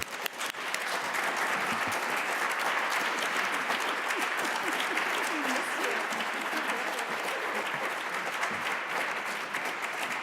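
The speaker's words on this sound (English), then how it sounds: "Please give me a rousing hand in welcoming her to the stage." A lecture audience welcomes a speaker to the stage with steady, full applause from a large crowd that keeps going throughout without fading.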